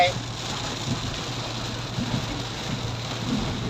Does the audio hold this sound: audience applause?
no